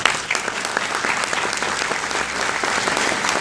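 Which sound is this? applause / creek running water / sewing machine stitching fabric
applause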